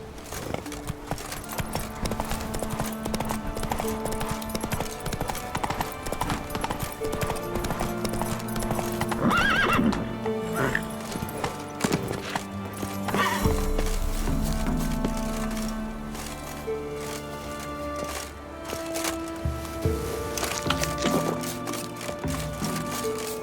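Roach, the horse in The Witcher 3, gallops with rapid, rhythmic hoofbeats that stay loud and continuous, with a brief whinny partway through and game music and effects underneath.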